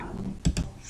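Two quick computer mouse clicks, close and quiet, in a brief pause in software work.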